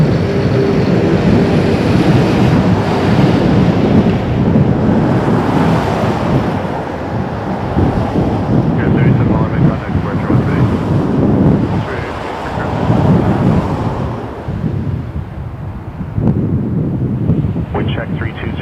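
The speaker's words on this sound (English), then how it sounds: "There is definitely a crosswind." Strong crosswind buffets a microphone at Toronto Pearson Airport, a loud rumbling roar that surges and dips in gusts, with voices talking over it at times.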